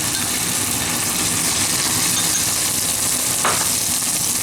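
Pesto pasta sizzles and fries steadily in a pan while being stirred, a continuous dense crackle with a brief scrape partway through.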